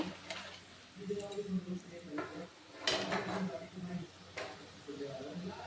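Utensils clatter against a pan as fried fish pieces go into a boiling mustard curry, with a soft bubbling under a voice talking throughout.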